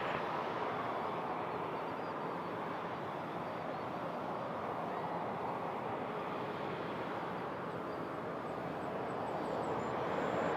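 A heavy Airbus A330 lands at Toronto Pearson airport. Its jet engines make a loud, continuous broadband roar that holds steady for the whole stretch, with no voices over it.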